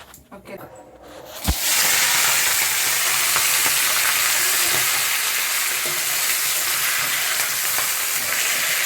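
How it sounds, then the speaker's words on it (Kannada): Chicken pieces drop into hot oil in a pan with a sharp clatter, then sizzle loudly and steadily as they fry, close up with a faint voice underneath. "ಅದಕ್ಕೋಸ್ಕರ ಸ್ವಲ್ಪ ಫ್ರೈ ಮಾಡ್ಕೊಳ್ಳೋಣ. ಹಾಕ್ಕೊತಾ ಇದ್ದೀನಿ ನಾನು"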